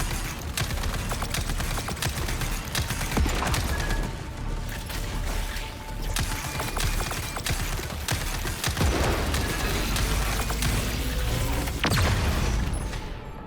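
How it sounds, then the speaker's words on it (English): Combat gunfire in a video game, a loud, irregular series of sharp shots and bursts mixed with booms and impacts across the whole stretch, with no talking. "So the shooting itself does not honestly seem bad."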